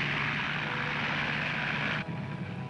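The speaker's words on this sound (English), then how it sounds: "The float planes took to the sea." Float planes in an air race fly past with a continuous loud propeller-engine drone that drops off abruptly near the end, with no talking.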